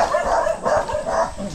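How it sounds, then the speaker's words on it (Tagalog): Several dogs bark near a forest house in rural countryside, three quick bursts of barking and yelping at moderate distance, loud and overlapping in a rough rhythm. "ang dami palang aso din eh"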